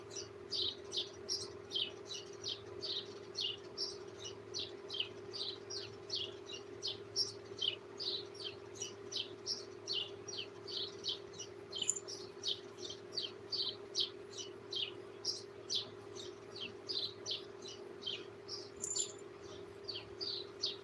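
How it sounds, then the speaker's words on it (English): A sparrow and a grackle squabbling, giving a rapid continuous series of sharp chirps and tweets over a steady low hum, moderately close. "Sounds like a sparrow and a grackle fighting."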